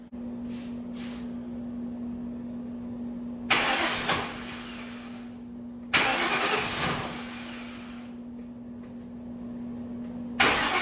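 A car engine cranks in short bursts with a steady electrical hum underneath, briefly firing up several times before cutting off again.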